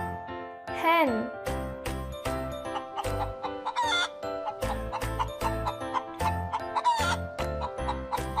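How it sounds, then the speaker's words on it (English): Hen clucking in quick, repeated short bursts, with a crowing-like call among them and a light jingling backdrop, close and fairly loud throughout. "Hen."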